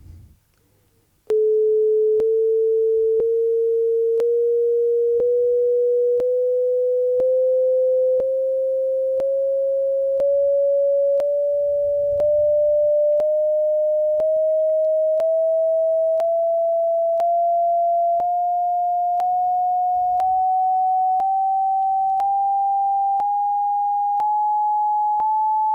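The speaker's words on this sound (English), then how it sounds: "these are the actual frequencies that you're going to hear of this new tuning" Test tones at the frequencies of a new musical tuning: a pure sine tone slowly rising in pitch with regular clicks marking steps, loud and alone after a brief quiet start.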